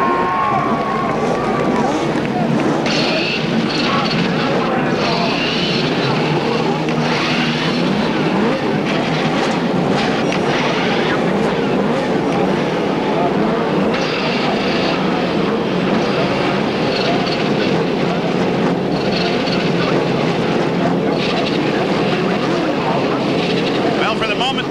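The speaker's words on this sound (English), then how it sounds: "the whole crowd is going to get together to start the engines" Race car engines start up together on a lakefront airport taxiway at the 1992 CART Cleveland race, a dense continuous roar with crowd noise and commentary talk over it throughout.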